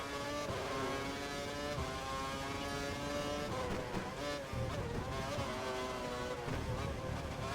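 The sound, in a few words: race cars driving in F1 World Championship video game, Bahrain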